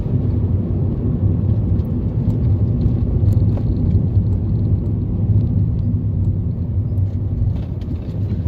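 A car engine drones steadily while driving in third gear at about 30 km/h, a loud, continuous low rumble with road noise that holds evenly throughout and has no talking over it.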